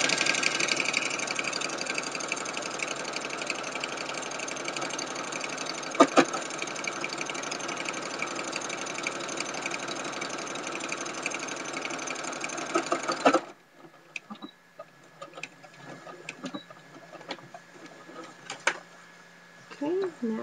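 A sewing machine runs steadily and loudly while stitching in the ditch along the lines of a tag blanket, then stops, leaving quiet clicks and handling noises.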